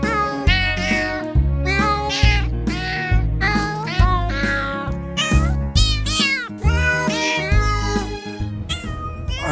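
A song is built from cat meows pitched into a melody over a pulsing bass line. The loud, continuous novelty music has meow after meow sung in rhythm.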